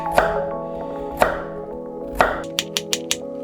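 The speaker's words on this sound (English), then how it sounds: "Quickly peel the carrot. Quickly slice this up." A knife cuts through a peeled carrot on a cutting board: three slow, sharp chops spaced about a second apart, then four quicker taps in a row, close and clear with no talking.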